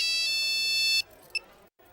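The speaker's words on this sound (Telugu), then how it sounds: "ఫోన్ వచ్చింది." Phone ringtone in a Telugu comedy film scene: a bright electronic beeping tone rings steadily for about a second, then stops, followed by one brief faint blip and quiet, with no talking.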